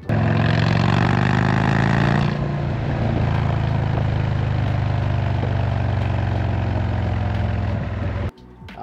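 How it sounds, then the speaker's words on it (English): A 2023 Indian Springfield Dark Horse motorcycle with a Reinhardt slip-on exhaust, baffle in, runs with a deep throaty burble, revving briefly at first then settling into a steady idle before cutting off abruptly. "So I've got the Reinhardt slip-on exhaust with the baffle still in for now."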